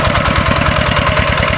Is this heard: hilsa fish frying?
no